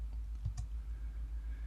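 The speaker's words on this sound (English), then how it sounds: "Let me try typing Python." Quiet typing on a Windows computer keyboard, a few soft key clicks over a steady low hum, close and faint with no talk.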